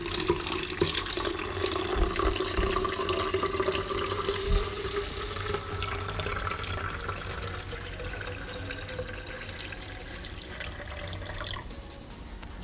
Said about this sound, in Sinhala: මම දැන් මේකට ටික ටික වතුර දානවා